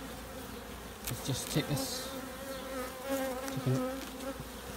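Honeybees buzzing thickly from an opened beehive during frame handling, a dense, wavering hum close by with occasional knocks and rustles of equipment, and a brief murmur of speech over it.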